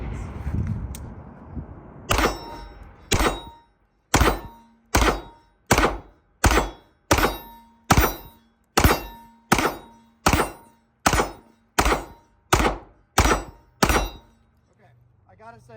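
A Staccato C2 handgun fitted with a Holosun 507 red dot fires about fourteen sharp shots at a steady, even pace on a training range. Each crack is loud and close and trails off quickly, with quiet background noise before the string starts.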